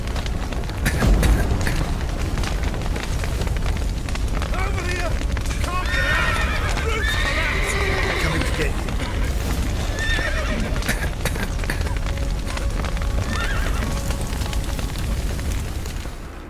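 Horses neigh and whinny in a burning stable in The Witcher 3, with repeated high cries and hooves clattering over a steady roar of fire, while voices speak underneath throughout.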